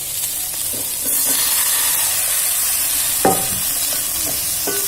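Potatoes frying in a pan for veg biryani, a steady close sizzle and hiss with occasional soft stirring knocks.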